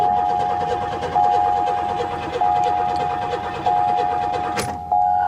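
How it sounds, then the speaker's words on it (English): Starter cranking a fire-burnt Ford Mustang GT engine that won't fire, a steady churning whir with regular pulses about every second and a brief sharp squeal near the end, no catch or start. "It cranks over good,"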